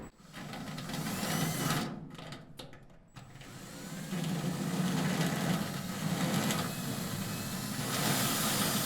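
Rotary deburring bit grinding and nibbling the sheet metal of a first-generation Camaro or Firebird trunk pan, a continuous high whining, rasping tool noise with a brief dip in the middle, close and loud, with no talk.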